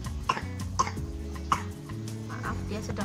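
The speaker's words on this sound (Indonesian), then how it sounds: "Maaf, dia sedang batuk." A child with cerebral palsy gives several short coughs, spaced irregularly over a low background hum, with faint adult movement or talk nearby.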